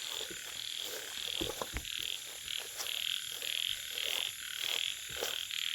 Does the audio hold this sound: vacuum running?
no